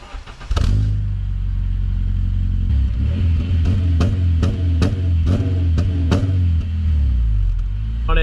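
Honda K24A four-cylinder in an 8th-gen Civic Si with stock mid pipe and a Megan Racing axleback exhaust starts up, then idles with a deep rumble and is blipped through a series of sharp, repeated revs, loud and close, no talk.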